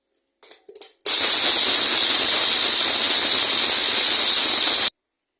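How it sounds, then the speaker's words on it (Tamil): A mixer grinder grinds cardamom pods into powder, a loud, steady whirring roar that starts abruptly after a few brief clicks and runs for about four seconds before cutting off. "இப்போ ஏலக்காவை பவுடர் பண்ணி எடுத்துக்கலாம்."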